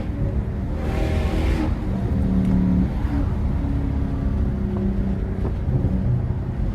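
Lexus GS430 V8 with catalytic converters removed, driving with a loud, raw, steady engine drone and rising revs throughout, heard from inside the car with no talking.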